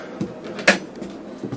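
A cupboard door in a motorhome opens with one sharp clack, preceded and followed by softer knocks in a quiet interior.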